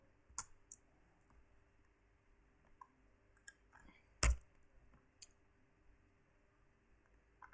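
Sparse, quiet clicks of a computer keyboard being typed on, scattered single keystrokes with one sharper tap, nearby in a quiet room.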